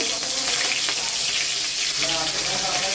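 Small freshwater prawns fry in hot oil in a kadai, making a steady, dense sizzle with bubbling crackle that holds evenly close and loud throughout.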